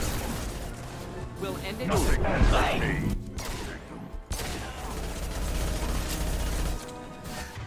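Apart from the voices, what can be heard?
pistol gunfire in video game Mass Effect 2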